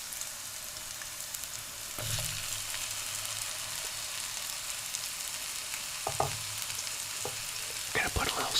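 Onions join red peppers frying in a pan at home for a breakfast sandwich, a steady close sizzle with a few stirring scrapes and clatters of a utensil against the pan.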